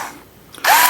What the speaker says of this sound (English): I'm using a cordless electric drill with those kind of funny little screw heads or drill heads on them